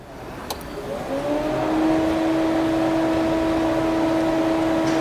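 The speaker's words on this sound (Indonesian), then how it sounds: "ini baru dia satu-satunya suara yang dihasilkan dari mechanical dari mobil ini, hanyalah AC" A Wuling Air EV electric car's air conditioning runs as a steady whooshing blower, with a low hum and a faint higher whine rising in at the start and then holding constant inside the quiet cabin.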